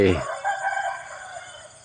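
A rooster crows once nearby in the morning countryside of Chae Hom, Lampang, Thailand, a loud harmonic call tailing off into a quieter drawn-out note over faint background hiss.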